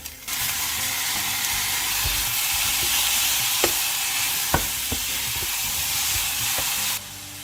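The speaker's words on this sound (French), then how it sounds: "je vais mettre les choux en premier parce que c'est un petit peu long à cuire" Cabbage frying in a hot pan gives off a steady, close sizzling hiss for about seven seconds, broken by a few sharp clicks and scrapes of stirring. It then cuts off abruptly. No one speaks.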